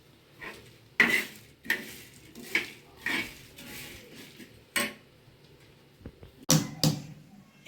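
Whole nutmeg being cracked apart by hand while preparing garam masala spice mix, giving a run of sharp, close cracks and small clattering knocks spread irregularly across the stretch, with no talking.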